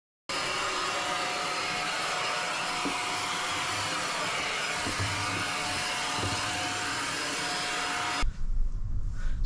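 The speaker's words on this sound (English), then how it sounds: "So I've had a quick hoover around." A vacuum cleaner hums steadily inside a liveaboard narrowboat, a loud continuous drone that stops abruptly near the end, followed by a short clatter.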